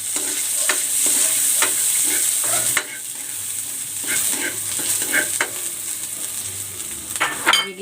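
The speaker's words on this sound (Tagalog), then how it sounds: "Maglalagay ako ng cooking oil. Igigisa ko na tong bawang. At ang sibuyas." Garlic and onion sauté in hot cooking oil for pancit, a close, constant sizzle overlaid with repeated spatula scrapes and stirring clinks against the pan.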